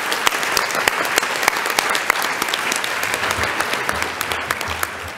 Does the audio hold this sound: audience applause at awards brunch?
yes